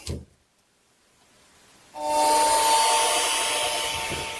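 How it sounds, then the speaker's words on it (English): A Bosch 18 volt cordless heat gun blowing hot air to shrink heat shrink tubing over wires during a Whirlpool washer repair, a steady close whooshing roar with a fan whine that starts abruptly midway after near silence. "Then we'll heat that up to collapse that heat shrink. And I'm just going to be using this Bosch 18 volt one"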